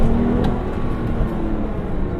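A manual-gearbox Porsche 911 accelerates up a San Francisco hill, its engine note pulling steadily and loudly from inside the car with no talking.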